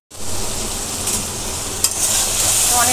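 Vegetables for a Chinese-style stir-fry sizzle steadily and loudly in a hot pan just after soy sauce goes in, a continuous frying hiss with faint stirring scrapes.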